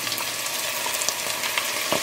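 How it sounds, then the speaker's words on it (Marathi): Chopped tomatoes sizzle and crackle steadily in hot oil with ginger-garlic paste for a Goan meat stew, a close, continuous frying hiss with small pops throughout. "तितून घालया आमी टोमॅटोज हे चॉप करून दवरलेले ते."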